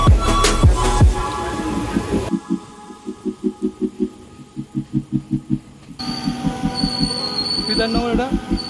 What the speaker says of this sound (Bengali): ট্রেন ঢুকবে বিধাননগর কিছুক্ষণ পরেই।